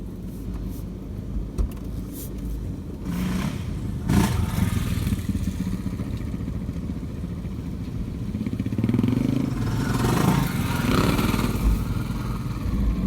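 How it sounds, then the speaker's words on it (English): Dirt bikes ride past on a trail in Cobaw State Forest, Victoria, their engines swelling and fading as they pass at moderate distance, with a continuous rumbling roar and brief louder surges around the middle and near the end. "Here come the bikes."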